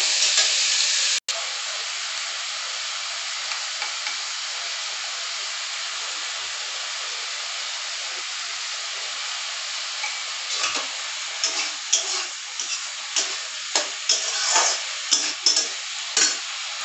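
Pointed gourd (potol) frying in a pan gives a steady, fairly loud sizzling hiss that holds for the whole stretch. Denser crackles and pops break through toward the end.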